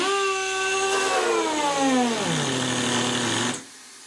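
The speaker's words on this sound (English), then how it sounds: "this shows the limitations of my non-professional compressor" A small non-professional air compressor runs steadily and loud with a strong tonal whine, its pitch sagging gradually as it labours, then cutting off abruptly near the end, leaving quiet hiss.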